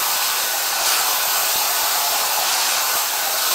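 Hair dryer running on high heat, a close, loud and steady airy roar held unchanged throughout with no talk.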